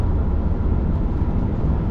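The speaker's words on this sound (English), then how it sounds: "it's just a little bit of wind noise" Steady broadband wind rush inside an older Tesla Model 3 while driving, a constant close roar that fills the cabin evenly with no breaks and no voices.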